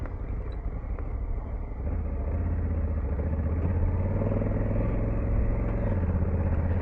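A KTM 690 motorcycle engine on a highway ride, a loud continuous low drone with steady road and wind rumble throughout, alone without any talk.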